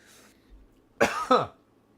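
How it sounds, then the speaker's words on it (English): Two sharp, close coughs into a microphone in quick succession after a soft breath, loud and dry, then silence. "trying to not cough cough directly into the microphone"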